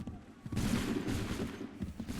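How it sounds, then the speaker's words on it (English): Musket volley in Assassin's Creed III Remastered, a dense crackling burst of many shots sustained over a couple of seconds, mid-distance and moderately loud. "Open fire."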